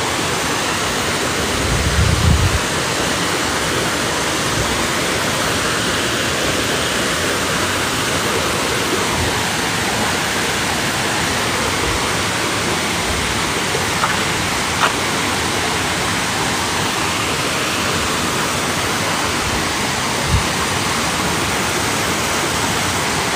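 Junjung waterfall in Kedah, a steady broad roar of falling water heard up close, continuous and unchanging, with a few faint knocks underneath.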